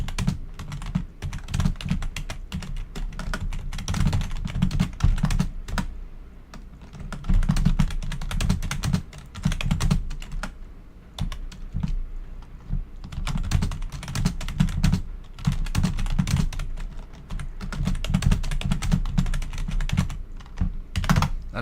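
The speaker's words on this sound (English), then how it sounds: "I know you guys are getting pretty fucking annoyed by it. By the typing" Rapid computer keyboard typing runs for about twenty seconds in dense bursts of clicking keystrokes with short pauses, close and fairly loud, with no talking.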